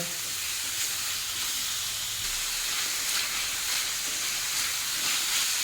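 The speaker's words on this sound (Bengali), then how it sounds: "এখন দেবো আলু, প্রত্যেকটা ইনগ্রিডিয়েন্টস দেবো আর অল্প 2-1 মিনিট করে সব নাড়িয়ে ভেজে নেব" Potatoes and other ingredients frying in a pan as they are stirred, a bright continuous hiss and sizzle filling the whole stretch with no talking.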